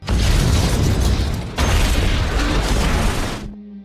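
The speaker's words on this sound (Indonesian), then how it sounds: "namun tak lama terjadilah sebuah ledakan" A loud, sustained explosion at a submarine in a movie, a dense booming roar with crackling debris that cuts briefly and surges again before ending abruptly.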